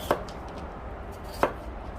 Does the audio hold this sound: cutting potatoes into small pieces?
yes